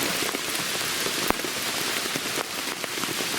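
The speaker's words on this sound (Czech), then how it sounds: "Jsem zvědav, jak dlouho ještě bude pršet." Steady rain drums on a tent during a motorcycle camping trip in Norway, a dense close patter with occasional louder single drops and no voices.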